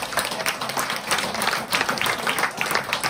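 An audience at a live comedy show breaks into steady applause, a dense wash of many hands clapping throughout with no pauses.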